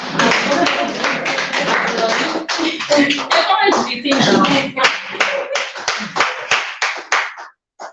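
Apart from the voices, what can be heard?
people clapping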